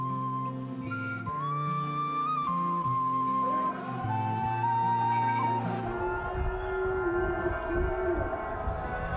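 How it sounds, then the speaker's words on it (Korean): Several amplified voices chant the evening call to prayer, long, wavering calls that overlap and echo from many distant mosque loudspeakers in Sanaa, Yemen, with a steady rumble of background noise throughout. "수백 개가 넘는 모스크의 스피커에서 일제히 저녁 기도를 알리는 무해진 소리가 사이렌 소리처럼 울려 퍼진다"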